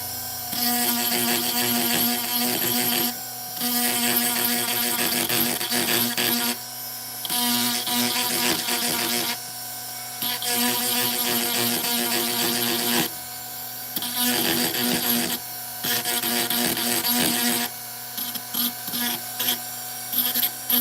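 A power tool deburring a workpiece on a workbench whines in several loud, sustained passes, each separated by short gaps, close up with no talk.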